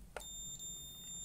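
A cheap Geiger counter in alarm mode, triggered by uranium radiation above a set threshold, gives off a steady high-pitched electronic beep tone that runs continuously and fairly faintly after one brief click, with no talking.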